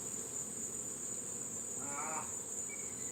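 A steady, close insect hum rises from honeybees around an opened hive during inspection, with a short brighter buzzing pass in the middle and no talk.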